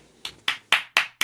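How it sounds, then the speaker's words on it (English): A few separate claps over a video call for an open mic performer, five sharp hits in a loose, slightly uneven rhythm, close and clear with no talk. "Everyone give Stefan a round of applause"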